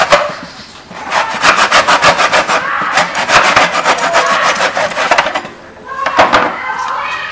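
Hand saw cutting wooden picture frame molding held in a miter box, a steady run of quick back-and-forth rasping strokes close up, pausing briefly near the end before a few more strokes.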